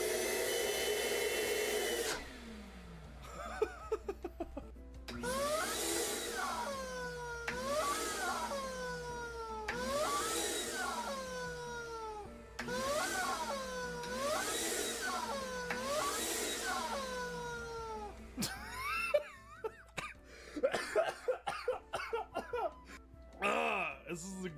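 A vacuum cleaner roars, then sucks on a metal slinky, producing a run of loud, repeated whooping tones that rise and fall, with laughter and scattered clatter at the end.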